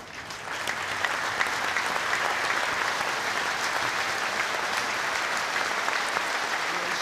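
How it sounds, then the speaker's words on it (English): A rugby stadium crowd at Northampton Saints versus Gloucester joins in a moment of applause, a dense, sustained roar of clapping rising quickly at the start and holding steady, heard from a distance. "Would you please join us in a moment of applause?"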